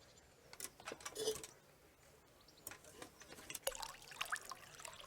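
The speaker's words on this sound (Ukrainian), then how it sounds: "Наливаємо в казанок воду." Water poured into a cauldron during alchemy in the video game Kingdom Come Deliverance, heard as a soft, faint trickling and splashing with a few brief clinks.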